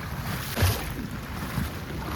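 A river in flood after heavy rain near Usarli village in Panvel, heard as a steady broadband roar of rushing water mixed with wind buffeting the microphone, with no talk.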